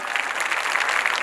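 An audience at a Shrimad Bhagavat Katha religious discourse claps steadily, a dense, even wash of applause that fills the whole short moment with no voices.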